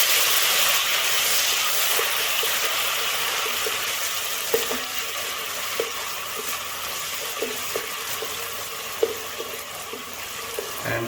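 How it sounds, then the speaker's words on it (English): One chopped onion frying in oil reused from frying silver trevally fish in a pot, a steady hiss and sizzle, loud at first and easing slightly, with small pops and stirring clicks scattered through. "I will fry it like for 2 to 3 minutes"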